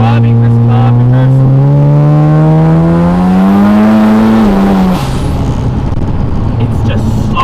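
A 730-horsepower turbocharged 13B rotary Mazda RX7 FB is driven hard at close range, its loud engine note climbing steadily in pitch through the revs before dropping off sharply, then continuing as rough roaring noise.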